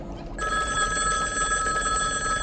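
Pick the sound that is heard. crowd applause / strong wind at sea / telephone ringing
telephone ringing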